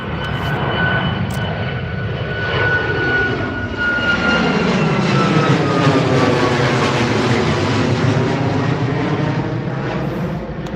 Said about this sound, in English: There's a TUI going.